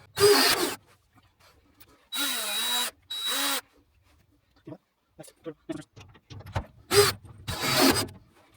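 Power tool setting rivets during a shower install in a Sprinter van: several short whirring bursts with pauses between, fairly close, and quieter clicks and handling noises in the gaps.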